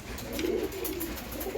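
Pigeons coo softly in a steady, low murmur from a loft of top-quality Giribaz and Teddy breeding pigeons, the calls overlapping continuously without any talk.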